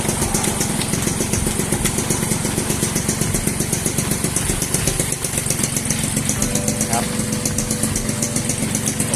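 A Suzuki Swing 110 motorcycle idles close by with a loud, steady, rattling engine putter throughout, a brief dip midway and a faint whine late on.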